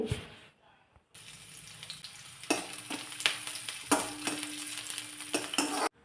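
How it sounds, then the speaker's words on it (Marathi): Chopped onion frying in a little hot oil in a wok, a steady sizzle broken by several sharp metallic stirring clanks, close and fairly loud, with no speech over it. "तेल चांगलं तापलं की त्यामध्ये एक चिरलेला कांदा घालते"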